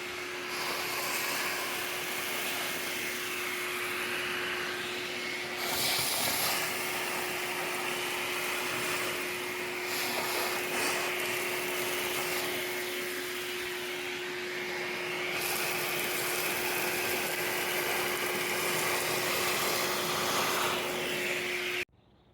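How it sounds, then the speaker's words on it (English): Vacuum cleaner sucking grit and debris out of the joints between paving stones outdoors, a loud continuous whining roar with a steady tone that swells and dips as the nozzle moves, then cuts off abruptly at the end. "So vacuum all these out, get most of it out"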